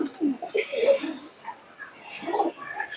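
Malbai, Madras and Giribaj breed pigeons coo in short, low, throaty bursts, several close calls overlapping at an irregular pace with soft talking nearby.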